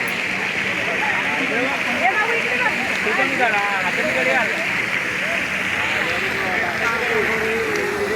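A water fountain at a scenic outdoor spot gives a steady, broad rushing splash throughout, while someone talks continuously over it close to the microphone.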